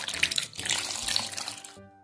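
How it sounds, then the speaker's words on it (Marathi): Water pours steadily from a tap into a bowl holding a cloth-tied ball of puran poli dough, a continuous close splashing stream for nearly two seconds before cutting off. "यामध्ये भरपूर पाणी घालूया"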